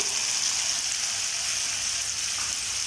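Sliced onions and three tomatoes with a little salt sauté in a pan for hotel-style tomato chutney, giving a steady, even sizzle close by with no speech.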